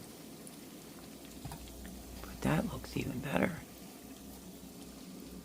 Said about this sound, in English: let's finish frying these up